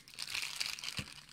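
A plastic bag crinkles steadily while a telescope eyepiece is unpacked, a close, continuous papery rustle with one soft thump near the end.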